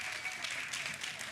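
Brief, faint audience applause for a panel of speakers at a Father's Day gathering, a short wash of distant crowd clapping.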